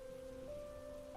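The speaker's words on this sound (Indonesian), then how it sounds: "Semua rintikan hujan itu meluncur turun dari jendela kita." Rain falling on a window, a soft, steady patter heard faintly alongside a sustained tonal hum, with no voices.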